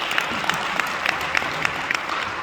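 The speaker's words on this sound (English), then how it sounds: "Let's make some noise right now for all of our junior citizen" Audience at an annual junior citizens awards banquet applauding the awardees, a dense burst of clapping heard close and steady throughout.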